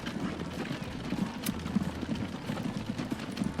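Horse-drawn wagons in the Transport Fever video game, set in 1861 America: a soft, steady patter of hooves clip-clopping at an even trotting rhythm, faint and continuous with no one talking.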